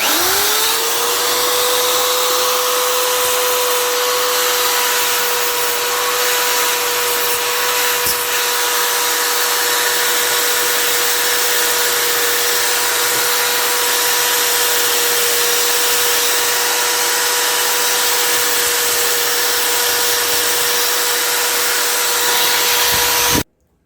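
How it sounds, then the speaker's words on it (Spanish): A Dremel rotary tool fitted to a drill sands a homemade TV antenna part, spinning up quickly to a loud, steady high whine that holds constant for over twenty seconds before cutting off abruptly, with no talking. "Voy a utilizar mi taladro con mi Dremel."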